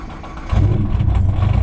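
Nissan GT-R engine starting close by, a short crank that catches after about half a second and settles into a loud, rumbling idle.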